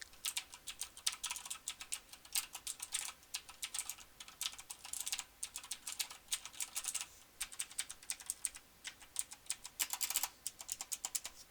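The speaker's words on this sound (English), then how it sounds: "a keyboard noise test with MX Blue switches to cover the worst case scenario for typing" Rapid clicky typing on a mechanical keyboard with MX Blue switches, crisp bright clacks in quick bursts with short pauses, close and steady.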